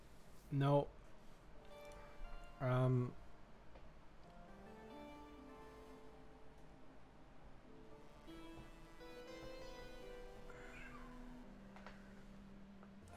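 A cat meows twice near the start, two clear, fairly loud calls, followed by quiet stretches with someone speaking softly in the background.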